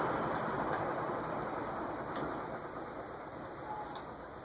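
Strato-Fan industrial/commercial ceiling fan by Total Energy Systems running: a continuous broadband whoosh with mechanical grinding and faint periodic ticks, fairly quiet and steady.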